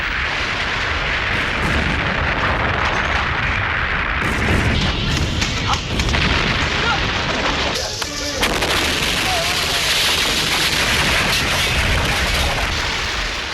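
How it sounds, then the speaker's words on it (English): A massive pyrotechnic explosion from a Jackie Chan film stunt, a loud sustained roar of booms and bursts with crackling debris, dense and close throughout, with faint voices mixed in. "He stages the biggest explosion possible, then runs away from it very fast when the cameras roll."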